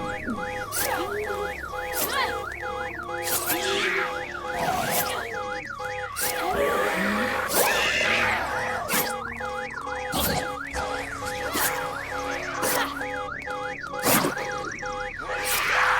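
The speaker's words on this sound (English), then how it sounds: "here's the car alarm, so zombies are going to come running to it" A car alarm blares in the Night of the Dead zombie video game, a loud looping warble of rising and falling electronic tones repeating steadily with sharp clicks and game noises layered over it.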